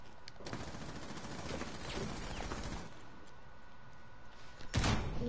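Gunfire in Rainbow Six, a fast rattling burst of shots at moderate volume for several seconds, then a louder close bang near the end, with no talk.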